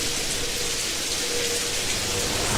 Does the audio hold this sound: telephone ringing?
no